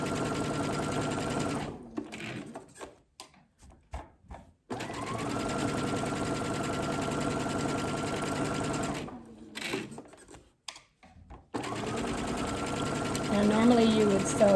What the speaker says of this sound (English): I know I'm stitching this down at 1/4 of an inch